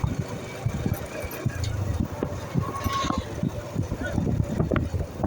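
A motorcycle rides along a rough rural village road, its engine droning steadily close by with wind and road rumble, while someone speaks intermittently over it.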